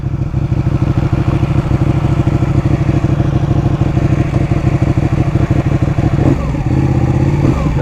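A Ducati motorcycle engine pulls away from first gear, a loud, close, steady pulsing roar that holds strong and shifts pitch near the end as it accelerates.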